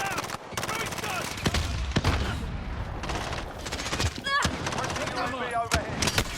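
Gunfire from the video game Call of Duty: Modern Warfare, dense bursts and sharp shots crackling throughout amid a loud battlefield mix, with a voice talking over the action.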